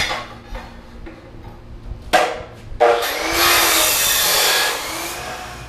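Cutting 3/4 inch OD metal tubing into support legs for a harness bar: a few knocks and clanks of handling, then a sustained loud grinding whine of the cut lasting a few seconds, close by.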